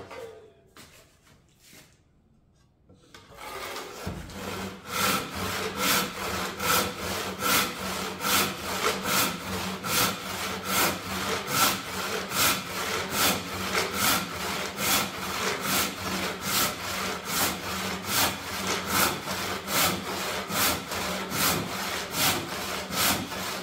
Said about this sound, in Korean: 여기까지 톱질을 했으면 이 부분 톱질해야 되는데, 이렇게 뒤집어서 또 톱질하면은